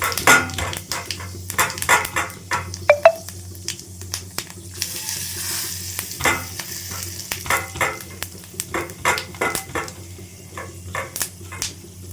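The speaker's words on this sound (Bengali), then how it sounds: "তেলটা অলরেডি গরম করে দিয়ে দিয়েছি বরফ করতে দিলাম এর মধ্যে আগে সবজিগুলোকে ভেজে নেব" Vegetables frying in hot oil with bay leaf, dried red chilli and five-spice seeds, a close, uneven sizzle punctuated by repeated clinks and scrapes of a spatula stirring the pan.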